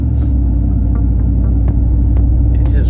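A brand new Ram Rebel pickup truck engine runs at a steady idle, a deep continuous rumble and throb close by, with a few faint ticks on top.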